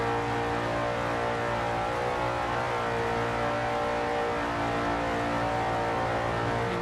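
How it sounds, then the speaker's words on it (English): A video game race car engine roars steadily at about 180 miles per hour, a loud continuous whine with a constant pitch and no pauses. "Listen to that engine."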